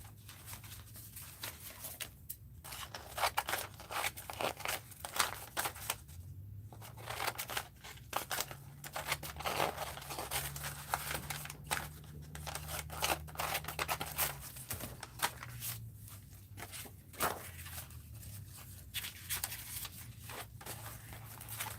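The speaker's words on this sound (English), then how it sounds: "That dictionary page needs to be cut down a little." Scissors snip through a thin dictionary page in a quiet room, a run of crisp, irregular cuts with short pauses between them.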